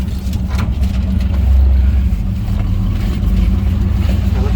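A custom 1952 Diamond T 332 pickup truck is driving, heard from inside the cab. The engine makes a loud, continuous low rumble that swells briefly partway through.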